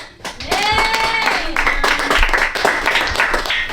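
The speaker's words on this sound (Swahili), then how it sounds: "Na wakati tunapiga makofi" A church congregation claps during a service, a dense spread of hand claps filling the room under a sustained sung or spoken voice, moderately loud and continuous throughout.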